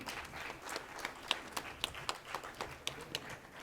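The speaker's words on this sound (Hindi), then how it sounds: "आइए एक बार जोरदार तालियों के उनका स्वागत करें" An audience at the Padma festival event claps to welcome a guest on stage, a fairly faint, steady patter of scattered hand claps with a few sharper peaks, heard from some distance.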